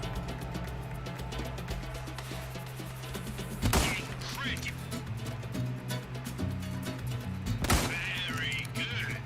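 Gunfire in the Resident Evil 4 Remake video game, two loud sharp shots a few seconds apart over a steady droning game soundtrack.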